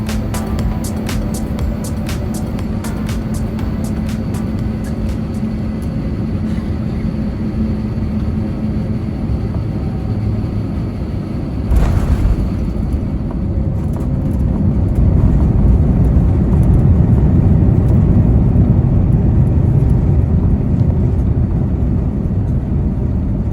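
An Air India A350-900 airliner lands at night in Delhi and brakes along the runway. A loud, steady roar of engines and rolling fills the cabin and swells stronger partway through.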